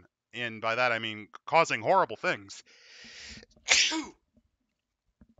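Someone talks, then lets out a single sharp sneeze with a breathy intake just before it, followed by quiet.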